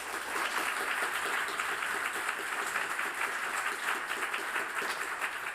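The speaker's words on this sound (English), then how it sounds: "which I think for such young students is worthy of a great hand of applause already" An audience at a data-society symposium applauds student pitches, a dense, even wash of many hands clapping, moderately loud and steady throughout with no talk over it.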